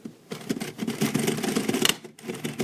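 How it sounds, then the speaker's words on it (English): An NSI knitting machine being cranked by hand, a dense rattling, clicking mechanical clatter with a stiff, laboring rhythm, close and moderately loud, without talk. "And you can hear the cranking, that it's hard to crank"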